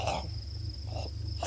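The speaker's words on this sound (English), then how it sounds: "Bugs. Bugs." Crickets and other insects chirp outdoors in a steady, high-pitched trill, faint but continuous across the short stretch, with low background rumble.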